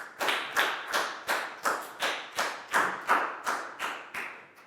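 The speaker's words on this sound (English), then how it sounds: "High five and a big round of applause for Pat," A Year 4 maths class claps for a classmate in a crisp, evenly spaced rhythm of about a dozen sharp claps, close and clear, with no talking over them.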